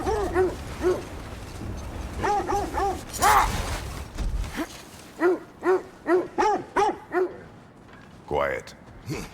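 Sled dogs barking in God of War Ragnarok, a string of repeated close barks with a brief voice in the middle, then a steady run of evenly spaced barks and a short whine at the end.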